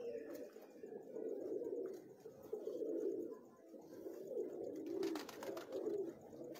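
Green-eyed pigeons coo close by in a soft, throaty rhythm, the low coos rising and falling in repeated phrases, with a brief burst of brighter chirps near the end and no talking.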